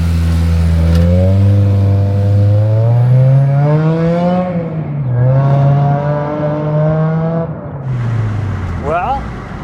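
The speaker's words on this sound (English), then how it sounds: "Well, the supercharger is supercharging." Supercharged K24-swapped 7th-gen Honda Civic, heard from inside the car, pulls hard with a loud, close engine note that climbs steadily in pitch, eases briefly, then climbs again before backing off.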